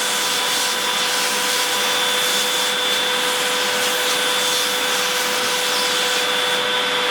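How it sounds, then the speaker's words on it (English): A vacuum cleaner runs steadily and loudly throughout, sucking up loose grout dust and small grout chunks from bathroom tile joints before regrouting, with a constant whining hum and no talking. "I'm going to take a vacuum and I'm going to suck out the dust."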